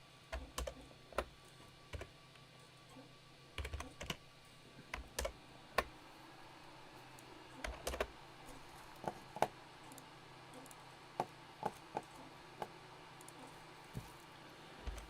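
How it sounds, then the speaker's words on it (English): Quiet typing on a computer keyboard while entering a physics calculation, scattered soft key clicks in short irregular bursts over faint room hiss, close but low in level. "So let's just type that in."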